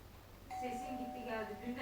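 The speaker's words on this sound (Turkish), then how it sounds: "Herhalde yan komşunun zili." A neighbouring flat's doorbell rings next door, a faint steady electronic chime heard indoors under people talking nearby.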